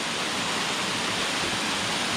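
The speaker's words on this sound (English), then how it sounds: "We're at the first named waterfall on Falling Waters." Stairs Fall, the first named waterfall on the Falling Waters trail, pours in a dense, constant roar that stays loud and close throughout with no other sounds.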